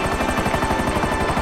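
Helicopter in the video game GTA V Online, a loud, steady rapid rotor chop with a continuous engine whine, close and unbroken for the whole short stretch with no talk over it.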